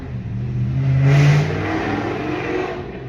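A fast car accelerates past, its engine swelling to a loud, revving peak and then easing off as it moves away. It sounds fairly close, with no talking.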